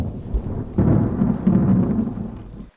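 Low, rolling thunderstorm rumble, steady and fairly loud, swelling partway through and fading out at the end, with no voices.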